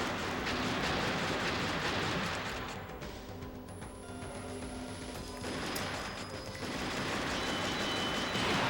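Rapid gunfire from the arcade light-gun shooter Vampire Night fills the scene, a dense continuous barrage of shots with game effects, loud and steady with a brief dip midway.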